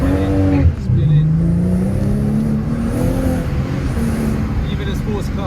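A BMW M240i F22 with a B58 engine launches under launch control with its tires spinning, the engine revving loud and steady and the pitch rising and dipping, with a voice talking over it.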